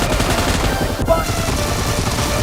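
Rapid gunfire rattles in a shooter video game, a dense, continuous burst of shots filling a short stretch with no speech.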